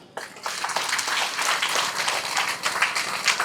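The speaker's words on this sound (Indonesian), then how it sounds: "Tepuk tangan dulu." Audience applause at a community event about seaweed farming among Bajo sea people, a dense wash of many hands clapping that swells in after a brief quiet start and stays steady and fairly loud throughout.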